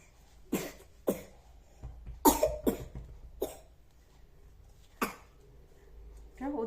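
A child coughing several times in short separate bursts, close and fairly loud, with quiet pauses between the coughs.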